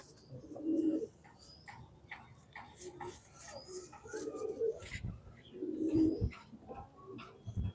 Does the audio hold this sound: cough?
no